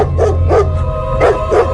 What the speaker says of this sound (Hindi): बिंदिया को देखते ही वो जोर जोर से भौंकने लगा।